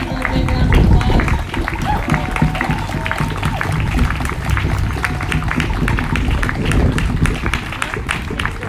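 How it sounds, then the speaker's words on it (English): Applause from a crowd at an outdoor protest in San Diego against ICE, steady clapping and scattered shouts filling the air at moderate loudness, with a brief swell near the start. "For a big round of applause."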